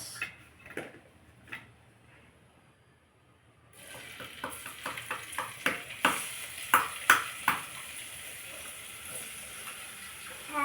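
Cumin seeds crackle and sizzle in hot oil for pav bhaji, faint at first, then a run of sharp pops and spits that builds over a steady frying hiss.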